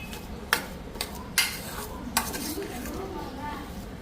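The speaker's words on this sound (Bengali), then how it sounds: "আলু সিদ্ধটা মাখা হয়ে গেল" Boiled potatoes are mashed in a bowl for parathas, with soft squishing under a few sharp clinks of utensil against dish spaced about a second apart.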